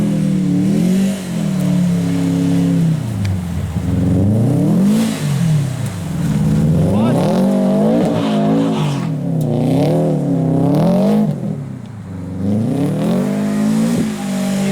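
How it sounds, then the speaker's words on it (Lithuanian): Bus wheels spin and vibrate on a snowy road, a loud engine whine swooping up and down in repeated surges as the tires struggle for grip. "O dabar ratai kaip vibruoja, žiūrėk sniego, kiek prigaudai ratą."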